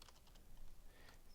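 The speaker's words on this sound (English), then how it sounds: "I'll try to stop talking and concentrate what I'm typing." Quiet typing on a computer keyboard, with soft, fast key clicks in an uneven rhythm over a faint hiss and no talk.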